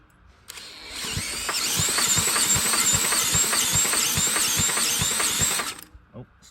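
A cordless drill turns over the engine of a 10,000-watt generator, making a loud, continuous whir with regular rhythmic pulses for about five seconds before stopping abruptly.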